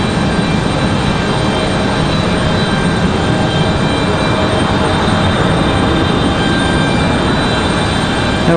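CRJ regional jet airliner departing Raleigh-Durham International Airport, a steady loud broadband engine roar holding evenly throughout without a break.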